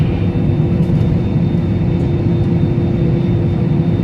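A passenger airplane at Silangit airport powers up for takeoff, its engines a loud, steady, droning roar heard from inside the cabin.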